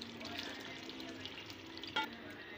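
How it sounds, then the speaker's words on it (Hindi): Water poured into sizzling fried masala for an Indian fish pulao, a faint hissing fry with a brief louder splash and spit near the end, heard alone. "तकरीबन आधा गिलास पानी मैं इसमें शामिल कर रही हूँ।"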